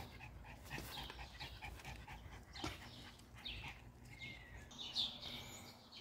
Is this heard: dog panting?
yes